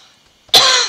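A single sharp cough bursts out abruptly after near silence, close and fairly loud, from one person.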